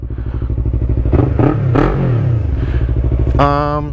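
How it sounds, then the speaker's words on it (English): A Yamaha R3 motorcycle with a full Akrapovic stainless steel exhaust idles with a throaty burble, then revs sharply a few times before settling back, close and loud. "He does have a full Akrapovic stainless steel exhaust on here."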